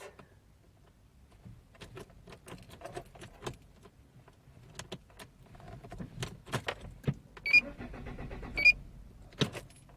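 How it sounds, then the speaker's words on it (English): A car cranks and tries to start but is held back by a security code lockout, with jangling keys, clicks and a couple of short electronic beeps mixed into the churning engine noise. "You hear this car tries to start, but there's a code first, a security code."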